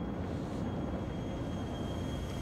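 An airplane flies in GTA IV, producing a steady, moderately loud engine drone and rushing air that holds constant for a couple of seconds without speech.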